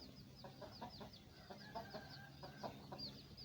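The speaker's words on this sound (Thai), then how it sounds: "ตอนนี้เป็นตอนเช้าๆนะบรรยากาศดีๆเลยนะครับ เราจะได้เสียงไก่เสียงกาด้วย" Chickens cluck and a rooster calls repeatedly in the morning outdoors, faint and somewhat distant over a steady background hiss, with no talk.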